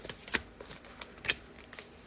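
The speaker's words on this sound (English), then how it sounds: "So, almost done shuffling." A deck of oracle cards is shuffled in soft riffles, with two sharper flutters about a second apart, close but very quiet, with no talking.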